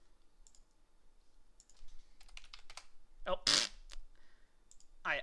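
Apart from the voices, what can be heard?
clicking a button and typing on a computer keyboard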